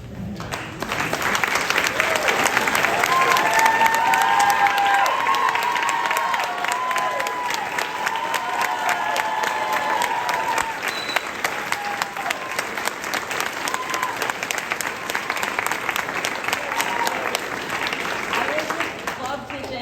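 Sustained audience applause with some cheering for the seniors after a school production of Guys and Dolls, a loud, dense wash of clapping that swells early and holds for about twenty seconds before easing slightly.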